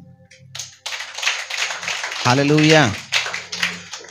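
A church congregation claps during a Kannada Christian sermon, bursts of hand claps that rise and fall while a voice calls out loudly in the middle.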